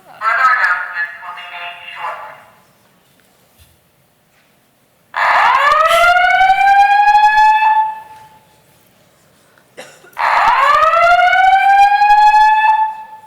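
Building alarm going off during a conference session: three loud blasts, each a rising, siren-like wail a few seconds long, separated by short quiet gaps.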